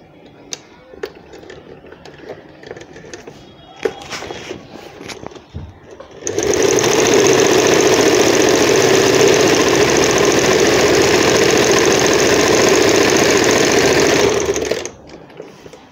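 A sewing machine runs a continuous steady stitch along the edge of an umbrella frock, loud and close for about eight seconds after some quieter handling of fabric.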